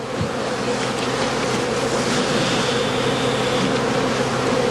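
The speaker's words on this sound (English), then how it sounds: "The skeps are bounced rhythmically in order to drive all the bees into the empty skep." Honey bees being driven from a straw skep bound with cane, a dense continuous buzzing swarm close by and loud throughout.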